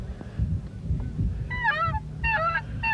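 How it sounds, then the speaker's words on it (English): Geese flying up off a river, with several loud honking calls in two or three overlapping bursts over a low background rumble. "David, those geese are just now really starting to fly, aren't they? They're coming off the river"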